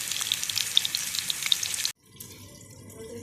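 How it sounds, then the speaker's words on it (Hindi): Fish shallow frying in a little oil, a steady hissing sizzle with crackling pops for about two seconds before an abrupt cut to quieter background. "आप इसमें देखिएगा लाइट सा शैलो फ्राई करेंगे"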